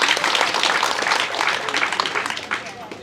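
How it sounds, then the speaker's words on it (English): Audience applause for a government agriculture minister at a meeting with residents and farmers: steady, fairly dense clapping that holds for the whole stretch with a slight dip near the end, and no speech over it. "Please give him a big round of applause."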